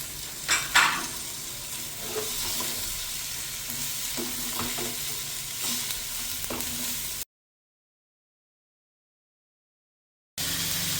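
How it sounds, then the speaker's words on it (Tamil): Flat beans fry in a pan with a steady sizzle while a spoon scrapes and stirs them in a few distinct strokes, close and fairly loud, then a short gap of silence before the sizzling resumes. "நல்லா இலக்கி விட்டு நல்லா எல்லாம் மிக்ஸ் பண்ணிவிட்டு மூடி வச்சு சிம் வச்சுட்டு வேவிங்க"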